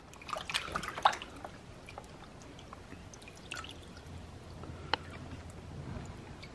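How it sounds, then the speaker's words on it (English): Processed quail rinsed in water: light splashing and dripping, with a few sharper splashes early on and soft trickling sounds throughout, fairly close and quiet. "We'll just rinse them off in the water."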